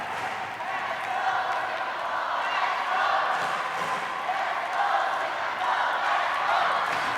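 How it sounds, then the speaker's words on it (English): Large crowd cheering and roaring steadily at a team table tennis match in the 8th ASEAN Para Games, a dense sustained wall of voices with swelling peaks, under a commentator's talk. "Just listen to that crowd."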